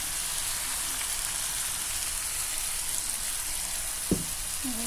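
An egg frying in a pan with sautéed bitter gourd and a sauté mix, giving a steady, close, even sizzle throughout, with a single sharp clack near the end.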